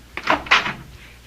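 In a radio mystery drama, a door opens with two quick, close scraping bursts, the second a bit louder, then fades into a low, quiet room background.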